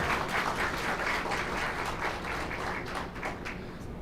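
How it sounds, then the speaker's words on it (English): A banquet-room audience at an AREAA of Greater Philadelphia installation brunch gives a round of applause, a dense, sustained clatter of many hands that gradually thins toward the end. "one more round of applause for all the people who made this afternoon possible"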